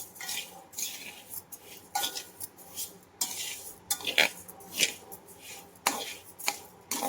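Rice flour for chakli bhajani being stirred and roasted in a pan over low heat, with repeated scraping clinks of a spoon against the metal pan in an irregular rhythm, close and moderately loud, no talking.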